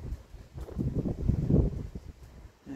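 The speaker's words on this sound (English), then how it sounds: "Still a bit windy, and we're still getting the odd gust" Outdoor wind gusts buffet a handheld phone microphone after rain, producing low, muffled rumbling thumps that swell and fade in uneven bursts, close and fairly faint.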